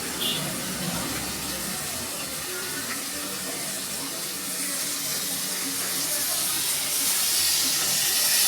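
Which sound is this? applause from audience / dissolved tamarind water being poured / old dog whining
dissolved tamarind water being poured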